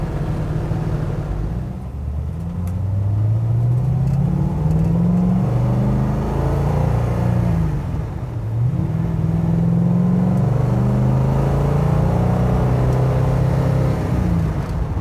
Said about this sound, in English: Love the sound of this car. It's got a really nice exhaust system.